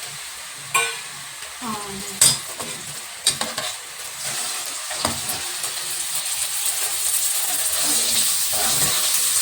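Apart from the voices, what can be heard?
tomatoes sizzling as they are added to a frying pan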